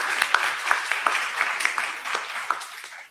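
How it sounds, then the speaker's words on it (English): A crowd claps at a public meeting on the Sint Maarten wastewater management project, a dense run of close, crisp handclaps that carries on for about three seconds. "I also want to give a special round of applause before we go to our MC."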